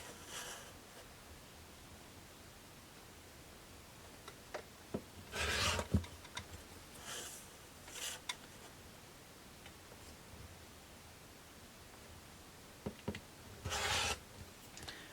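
Fabric is cut into strips for homemade makeup wipes, with several brief rough cutting and rubbing bursts separated by quiet pauses, close and fairly faint, no talking.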